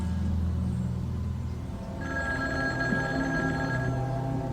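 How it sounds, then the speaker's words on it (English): An outdoor telephone installed on a 1960s family property rings, a steady electric bell tone starting about halfway through and holding over a low background rumble. "One of the phones rings."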